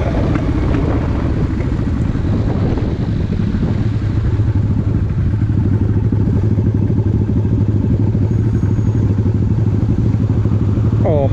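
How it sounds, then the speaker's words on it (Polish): A motorcycle moves through congested city traffic, its steady mid-pitched engine drone filling the foreground with continuous rumble and clatter, surrounded by the dense noise of other vehicles. "Kolejny motorek."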